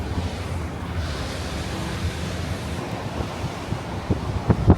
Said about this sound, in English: So the Restless Sea, turbulent sections of coastline.